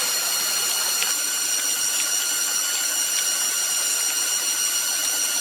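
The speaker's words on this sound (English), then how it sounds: "The car's entering the mud pit." A LEGO toy car drives into a mud pit, its small motor giving off a steady, loud whirring buzz that holds without a break. There is no talking.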